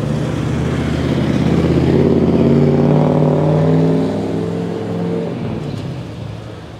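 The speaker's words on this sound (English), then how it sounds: "let's let that bus cross over." A city bus rolls across a street in Coyoacán, Mexico City, in the late afternoon, its engine a loud, steady rumble that swells and then slowly fades as it passes close by.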